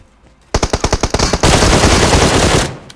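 A DBS shotgun firing in PUBG Mobile. About eight sharp, evenly spaced, loud shots ring out in quick rhythm, then a dense sustained blast of fire that fades out, with no talk.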